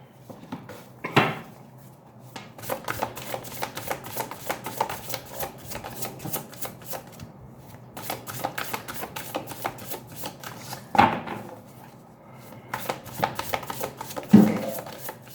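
Tarot cards are shuffled and handled in quick papery riffles and flicks that go on through most of the stretch. A few louder taps and card slaps land on a surface nearby, and no one speaks.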